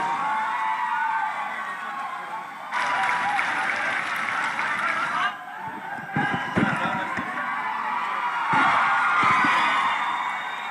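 A crowd at a political rally in Bhadrachalam claps in sustained bursts of applause, loud and dense, pausing briefly between waves, with cheering voices mixed in.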